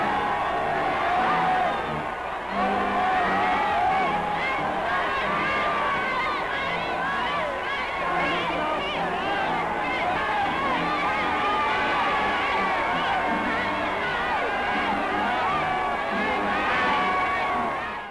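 A large crowd in 1938 Austria cheers Hitler, a sustained roar of voices and shouting heard through an old archival recording, steady and dense for the whole stretch.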